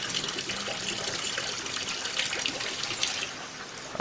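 Rose water being poured, splashing continuously at close range, a steady gushing stream with slight variations near the end.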